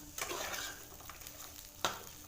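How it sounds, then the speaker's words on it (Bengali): Mixed vegetables and tomato frying in oil in a pan, a quiet continuous sizzle with a couple of louder stirring scrapes, close and without voices. "সবজিগুলোকে সমস্ত দিয়ে দিলাম দিয়ে নাড়াচাড়া করব"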